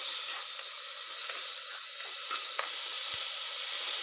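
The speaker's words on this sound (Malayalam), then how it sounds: "സവാളയും ഉപ്പും ഇട്ട് നല്ലപോലെ വഴറ്റി" Onion and salt sauté in hot oil for a dried shrimp curry, a continuous close sizzle and hiss with faint stirring scrapes and no voices.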